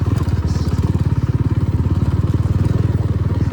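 A Jawa motorcycle rides along a narrow road, its engine thumping in a loud, steady, rapid pulse close to the mic throughout with wind rumble underneath.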